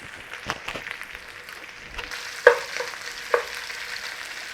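Potato chunks crisp up in a hot pan for a Cumberland sausage breakfast hash, giving a steady, close sizzle broken by two sharp clacks as the pan is stirred. No one speaks.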